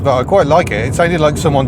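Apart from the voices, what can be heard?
No everyday noises stand out.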